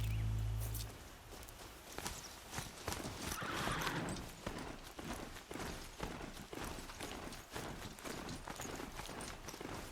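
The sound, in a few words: riding Strider horse-like machine, from video game Horizon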